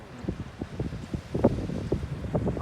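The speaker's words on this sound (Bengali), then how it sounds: "নৌকাটা কি আমাদের কাছে আসতেছে?" A boat approaches across the water at a lakeside park under a cloudy sky. Its low, pulsing rumble comes in irregular thumps, mixed with wind noise on the microphone, and no one speaks.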